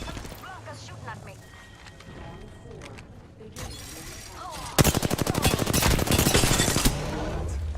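Loud rapid automatic gunfire from the battle-royale shooter Apex Legends in the second half, preceded by scattered game effects and a voice talking, with the sustained burst ending near the close.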